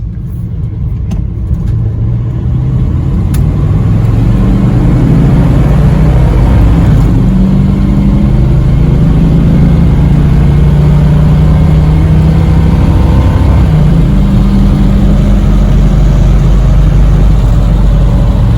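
Car engine fitted with a Rochester Quadrajet carburetor winds up hard as the secondaries open, a loud, sustained rising and falling rev heard close up while driving, with no talk.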